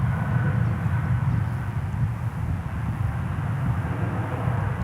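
A jet airliner departing DFW Airport for Denver roars steadily and loudly, a continuous low engine rumble holding throughout without voices.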